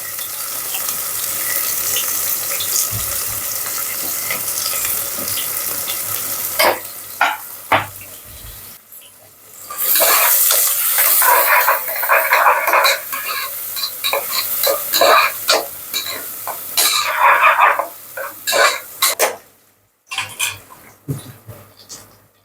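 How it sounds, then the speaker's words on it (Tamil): Onions hit hot oil for a one-pot mixed vegetable rice, with a louder sizzle bursting up midway, stirring scrapes and clinks of utensils against the pan, and brief pauses in between. "எண்ணெய் சூடாயிடுச்சு வெங்காயம் சேர்த்துக்கலாம்"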